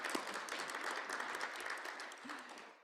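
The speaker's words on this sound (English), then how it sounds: "Soren, we're going to give you a round of applause" A round of applause from an audience at a strategy and innovation talk, fairly distant and moderately dense, holding steady before easing slightly at the end.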